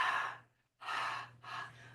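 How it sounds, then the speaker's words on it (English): Heavy breathing during a group exercise class: three deep, breathy exhalations, close and fairly faint, separated by short silent gaps, with no talk. "we're heavy breathing all over you."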